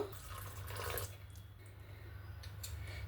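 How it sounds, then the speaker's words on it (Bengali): Water being poured into a semolina breakfast batter, a steady close splashing stream running throughout with no talk. "এখানে আবার একটু জল দেব।"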